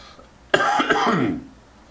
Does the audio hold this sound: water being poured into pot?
no